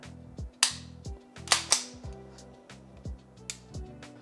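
A Ruger Mark IV pistol fitted with an aftermarket trigger kit is dry-fired repeatedly, each pull a sharp, close metallic snap followed by a softer reset click, in an uneven series.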